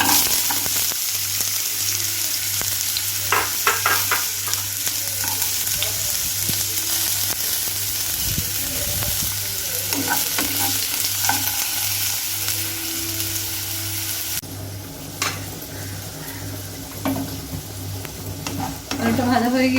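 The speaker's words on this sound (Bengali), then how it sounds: "এবার এই পাত্রে আলুগুলি ভেজে নেব।" Potatoes frying in hot oil in a pan, giving a continuous dense sizzle with stirring and utensil scrapes; the sizzle thins slightly near the end, with no talk.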